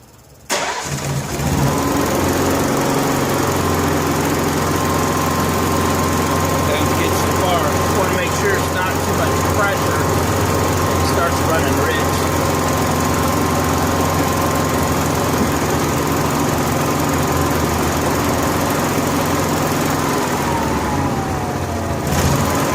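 A Honda gas-powered welder generator with a fuel delivery problem cranks and catches, then runs as a loud, steady, close engine drone with a faint hum, someone speaking beneath it.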